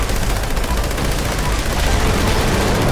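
Weapon fire and explosions in the Fallout 76 video game, a dense, continuous barrage of loud shots and blasts filling the whole stretch with no pauses.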